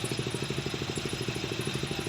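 A motorcycle engine idles steadily nearby outdoors, a rapid, even low-pitched pulsing with a faint clattering tone and no talk over it.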